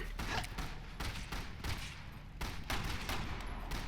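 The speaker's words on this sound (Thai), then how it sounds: "เรายิงแบบรัวมากเธอ" Rapid gunfire from the video game Resident Evil 6 comes in dense, loud repeated bursts separated by brief gaps, with no voices over it.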